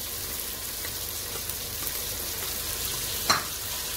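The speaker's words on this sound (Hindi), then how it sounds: "बस आपने प्याज को हल्का सा लाइट ब्राउन करना है, हल्का सा नरम बस करना है प्याज को आपने" Sliced onions fry in a pan for a white mutton korma, cooked only to a light softness. A steady, even sizzle runs throughout with one brief louder crackle near the end and no talking.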